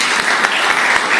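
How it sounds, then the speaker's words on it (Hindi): Loud, close applause from a seminar audience, a dense steady burst of clapping filling the short moment with a few sharper individual claps standing out. "एक बार उसके सम्मान में आप ताली बजाएं।"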